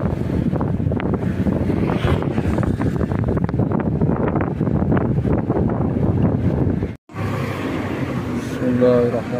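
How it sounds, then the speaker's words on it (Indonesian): Strong wind with rain buffets the microphone in a constant roar beside a flooded river while a person talks in Indonesian, ending with a brief pause and lighter gusts. "Hujan, angin juga lumayan besar."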